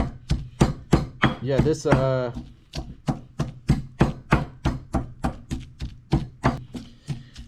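Chilies are pounded in a mortar for a shrimp sauce, a steady run of about two dozen sharp, close thuds at an even, brisk rhythm, with a short spoken remark near the start.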